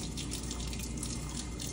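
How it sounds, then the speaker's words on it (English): Warm water runs steadily from a tap into a sink before a surgical hand scrub, a continuous close splashing flow that fills the clip on its own with no talk. "Then I'm gonna turn the water on."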